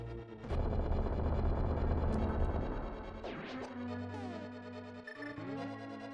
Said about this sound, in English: In this room, use Bombos again.